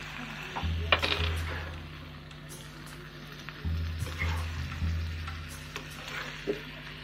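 Potatoes for green aloo fry quietly in a pan while a spoon stirs them, making scattered scrapes and clicks over a faint sizzle and a low, steady hum.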